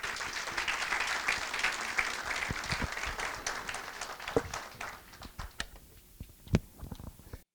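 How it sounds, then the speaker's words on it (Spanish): Dense applause from a conference audience, broad and steady, thinning out toward the end into scattered individual claps. "vamos a recibir con un fuerte aplauso"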